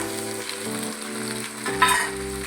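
Ginger and garlic paste frying in a hot pan for mushroom curry, a steady close sizzle with a brief louder hiss as it is stirred, alone with no voice over it.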